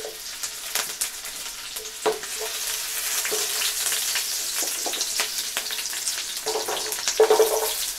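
Garlic, green chilli and onion fry in a pan, making a bright, steady sizzle. Scattered stirring scrapes and small knocks sit over it, close up, with no talking.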